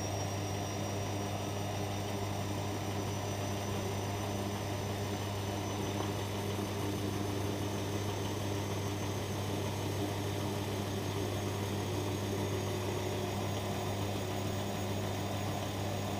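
A Bosch Maxx Easycare 60 washing machine spins its drum at 400 RPM during the first spin, a steady droning hum with a low rumble that holds evenly throughout, heard alone without voices.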